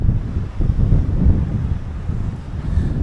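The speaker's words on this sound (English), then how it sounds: "It's pretty windy right now" Strong wind buffets the open top deck of the MSC Divina cruise ship early in the morning, roaring in loud, gusty rumbles against the microphone with no voices.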